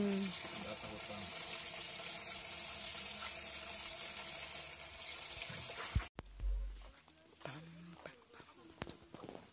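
Water runs from a neighborhood tap in an African village as it is fetched into containers, a steady splashing flow with clattering knocks and a sudden shift midway, while people talk nearby.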